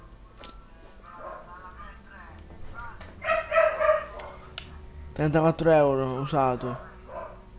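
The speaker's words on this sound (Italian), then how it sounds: "Scusate se il mio cane abbaia, non so perché." A nearby dog barks in a couple of short bursts of sharp, yelping barks among steady speech in Italian, the barks rising above the voice midway and near the end.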